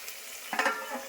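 Brief soft sizzling of vegetables and spices frying in a covered pan, a short burst of crackle rising midway and fading.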